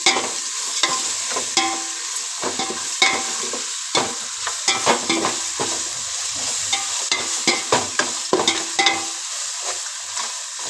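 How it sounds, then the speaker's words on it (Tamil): Fried onions and ginger garlic paste being sautéed for biryani, a steady broadband sizzle under repeated sharp scrapes and clinks of a spoon stirring against the pan, close and fairly loud throughout. "இப்போ நல்லா பொன்னிறமாக இதை வதக்கணும்"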